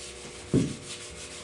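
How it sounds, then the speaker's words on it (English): A leather saddle is scrubbed with saddle soap, one short rough rubbing stroke, faint and close, against quiet background hiss. "We'll scrub this off."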